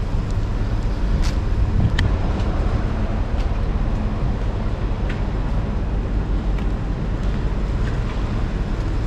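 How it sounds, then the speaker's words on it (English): Trucks driving past at the Raja Ferry pier in Donsak, a continuous heavy engine rumble and road roar with occasional clanks and knocks, no voices. "A lot of trucks going over because maybe it's opened up now."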